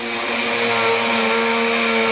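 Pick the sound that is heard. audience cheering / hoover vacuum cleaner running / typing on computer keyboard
hoover vacuum cleaner running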